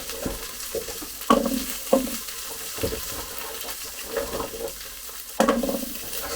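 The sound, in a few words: swede and carrots sizzling as they go into the pot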